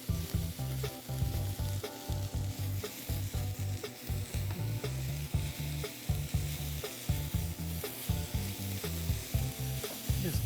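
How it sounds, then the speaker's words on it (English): Steak sizzling loudly and continuously in a pan on the highest heat, with fat and juices spitting under a steady frying hiss and occasional stirring clatter close by, no voices. "I'm going to add that steak in. Keep it at the highest temperature."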